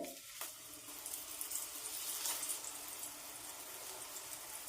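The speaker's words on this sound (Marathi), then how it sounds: "तेल गरम झालं त्यामध्ये अलगद हे पॉकेट सोडून घ्यायचं" Veg pockets fry in a few spoons of hot oil in a wide pan over medium flame, giving a soft, continuous hiss and faint crackle throughout.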